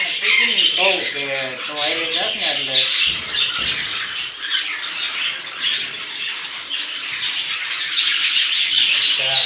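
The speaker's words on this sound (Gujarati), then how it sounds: "કલર કલરની પિંજરામાં હે મસ્ત મસ્ત ચકલીઓ" Small caged birds in colourful cages at a temple squawk and chirp in quick, shrill bursts, fairly close, with a busy bird chorus throughout and a voice briefly audible near the start.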